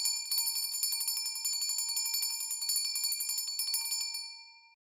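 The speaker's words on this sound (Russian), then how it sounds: "В честь праздника мы даем право тебе дать последний звонок в нашем эфире." A hand bell rung as the ceremonial last bell of the school year, with rapid steady clanging for about four seconds, bright and close, with no talk over it, ending with a short fade.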